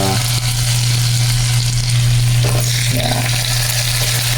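Garlic hits a hot pan while cooking ginataang hipon, producing a loud, continuous, steady sizzle of frying close by that fills the whole stretch.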